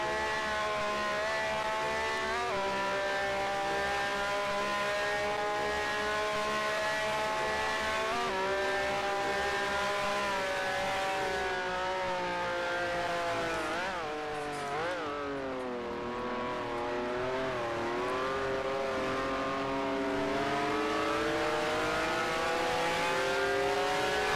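A race car engine in the Grand Prix Legends sim revs steadily in a high, buzzing whine that rises and falls through gear changes for over twenty seconds, loud and continuous with no voices over it.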